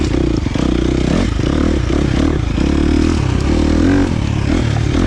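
A tuned KTM 350 XC-F dirt bike engine with a Vortex ECU pulls hard under throttle, its loud, close four-stroke roar rising and falling with gear changes and a bit of clutch action, with faint clattering along the way.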